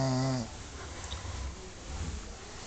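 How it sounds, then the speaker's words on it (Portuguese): Bigu snoring, a single close, rough wheezy snore that fades into soft noisy breathing. "Bigu roncando."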